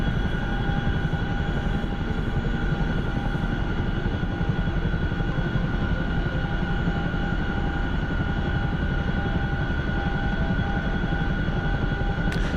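Chinook helicopter in a video game, a steady loud rotor and turbine drone with sustained whine tones running unbroken throughout, no distinct impact audible.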